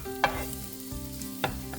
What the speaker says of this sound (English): Now it begins to sizzle.